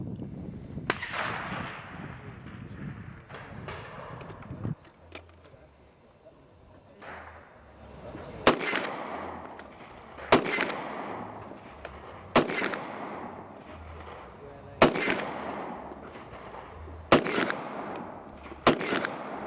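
A historic machine gun fires at a demonstration in a series of sharp, loud bursts spaced every two seconds or so, each cracking out and echoing away, with quieter shots and handling noise before them.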